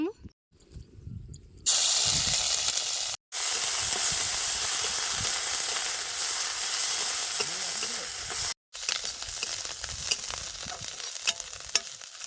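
Crushed ginger, garlic and green chilli hitting hot frying oil in a village kitchen wok, giving a loud, steady sizzle and hiss that runs for most of the stretch, broken by two brief gaps, with some stirring noise.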